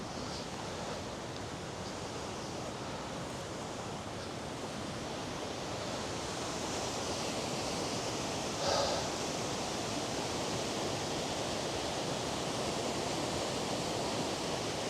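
Rushing water at the top of Ireland's highest waterfall in the Wicklow Mountains, a steady broadband roar mixed with gusting wind on a cold, windy winter day, continuous throughout.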